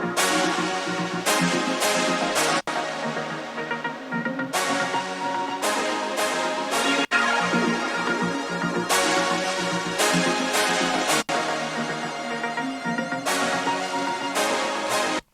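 Layered synth parts in a pop arrangement play a dense, loud, continuous passage with rhythmic chordal hits and brief breaks, no voices over it.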